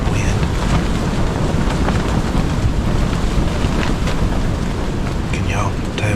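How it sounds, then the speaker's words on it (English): Strong wind gusts roar steadily outdoors during a Mississippi deer hunt, a loud, constant broadband rush buffeting the microphone with no pauses and no speech. "Can y'all tell it's windy?"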